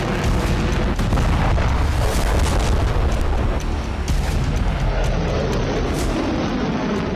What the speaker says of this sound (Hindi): रात के अंधेरे में एक के बाद एक 2 मिसाइलें दागी गई।